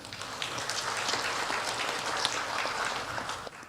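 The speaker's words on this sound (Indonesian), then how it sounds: "Tepuk tangan." Crowd applause at a political speech, steady dense clapping filling the whole stretch at moderate level with no voices over it.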